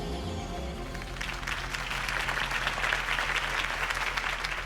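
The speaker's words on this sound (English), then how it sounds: "could have heard that applause" Crowd applause follows a campaign speech in the Batman Telltale Series video game, starting near a musical bed and swelling into a dense, steady wash of clapping that holds to the end.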